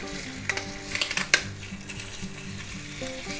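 Smoked ham fries in a pan with a steady soft sizzle, broken by a few sharp clicks and scrapes from a utensil near the start, close and fairly quiet, with no talk.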